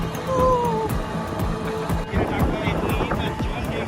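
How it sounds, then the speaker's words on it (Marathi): Motorbike carrying five riders, its engine a steady rumble under wind buffeting, with voices talking over the ride throughout. "आता आम्ही चाललो एका बाईकवरती पाच जण"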